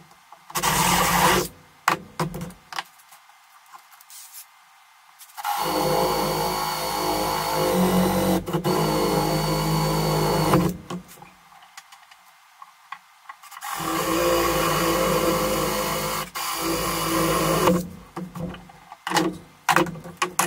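Power drill boring a central hole through a pallet wood board, with loud, steady grinding runs of several seconds each, separated by pauses and short bursts of handling noise.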